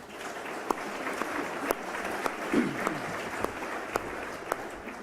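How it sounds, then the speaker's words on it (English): Scattered applause from a modest audience at a monthly meeting for four panelists, a soft steady patter punctuated by a few sharper individual claps, with a brief murmur of voice in the middle. "a round of applause for our 4 panelists"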